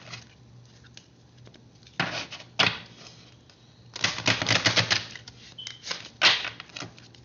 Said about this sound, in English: I have never had this much difficulty shuffling.